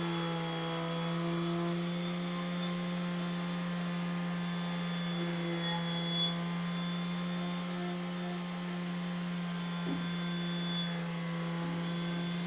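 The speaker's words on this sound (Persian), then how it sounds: "ما با استفاده از دستگاه این کار سنباده کاری رو انجام میدیم" A power sander runs continuously on a wooden shelf board, giving a steady, loud motor whine with a sustained, even tone and no speech.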